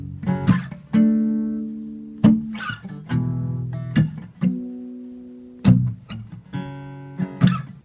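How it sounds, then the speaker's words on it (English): Palm-muted acoustic guitar strumming a verse pattern in standard tuning without capo, with short chunky strums and sustained muted chords in a steady rhythm, close and clear with no talking. "when you add the palm muting and you add the strumming that I told you"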